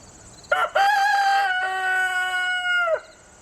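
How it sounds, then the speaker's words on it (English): A farm rooster gives one full crow, loud and close: a short sharp opening, then a long sustained call that breaks off after about two and a half seconds, heard alone. "my rooster always has to be part of the video in the background, giving us the ambiance of a background"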